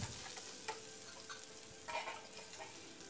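Soft, steady sizzling of shallots and curry leaves frying in oil for sambar, with faint stirring clicks, quiet and close.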